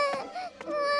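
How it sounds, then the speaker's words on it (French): A cartoon baby cries in short, high wailing bursts, two rising sobs with a whimpering tone, close and fairly clear with no talk over it. "Ne pleure plus, mon bébé."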